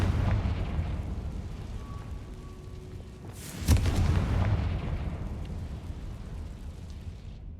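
Fire spell explosion in the Hogwarts video game, a single sharp boom about halfway through, rising over a steady low rumble of game ambience.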